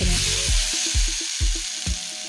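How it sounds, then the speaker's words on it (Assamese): Soybean curry with turmeric frying in a pan, a steady close sizzle punctuated by repeated rhythmic scraping strokes of a spatula, with no talking. "হালধিখিনি দি মই আকৌ 2 মিনিটমান সময় ভালদৰে ভাজি ল'ম"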